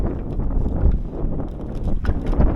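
Strong wind roars and buffets over the microphone aboard a sailboat fitted with brand new sails, a loud, continuous rumble with gusty swells and no voices.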